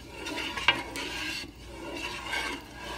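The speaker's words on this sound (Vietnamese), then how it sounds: "Mình cứ quậy đều, quậy khoảng 20 phút các bạn, cho nó bắp nó sẽ chín các bạn." Spoon scraping slowly around a pot of thick corn pudding (sweet corn dessert), a steady close rasping stir with one brief clink, no voices.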